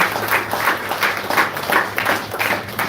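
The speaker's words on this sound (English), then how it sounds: "Let's give Mataji another round of applause as well." A round of applause from a crowd at a Hindu temple gathering during the month of Kartik, a steady, dense patter of many hands clapping at moderate distance for a few seconds without pause.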